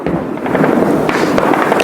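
Ground gunfire in Srinagar, a dense rattle of overlapping shots and crackles that runs without a break over steady background noise, with no speech.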